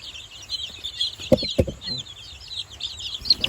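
A flock of nearly two hundred domestic chickens clucks and chirps at a farm during feeding, with a couple of sharp knocks in the middle and the busy chatter running steadily throughout.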